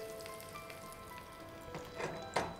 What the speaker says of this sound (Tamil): இப்போ நம்மளோட வடை வந்து பார்த்திங்கன்னா நம்ம வந்து எண்ணெய்க்குள்ளே போட்டிருக்கோம்.